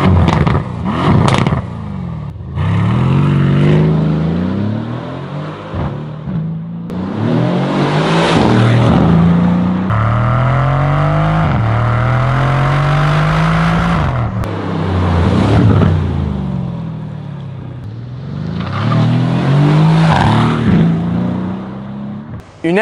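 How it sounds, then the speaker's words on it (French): A Mercedes-AMG C63 S with a 510 hp handmade V8 biturbo engine revs repeatedly, deep burbling rises and falls with sharp throttle blips, loud and close. "Un V8, biturbo, fait à la main."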